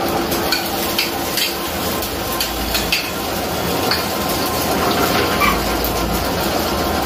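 Two tiny pigeon eggs fry in hot oil, giving a steady, fairly loud crackling sizzle with occasional sharper pops and a low rumbling undertone.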